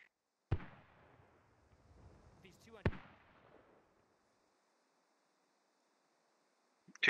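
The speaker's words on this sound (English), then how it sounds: "Can I get some artillery out, or some mortars out there?" Artillery or mortar rounds in the video game Squad: two separate heavy booms a couple of seconds apart, each trailing off in a rumbling decay, then near silence before a sharp burst at the very end.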